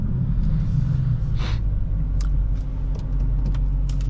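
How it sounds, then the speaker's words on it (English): A 2022 Dodge Charger Scat Pack 392 V8 on a drive, with a deep, steady exhaust rumble inside the cabin and a few brief, sharp exhaust pops crackling over it. "Those pops are super duper cool. Natural pops, nothing is simulated."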